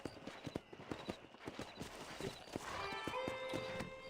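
Horse hooves in the video game Red Dead Redemption, a quiet, rhythmic clip-clop of hoofbeats on hard ground with faint game ambience and a soft tonal swell entering partway through.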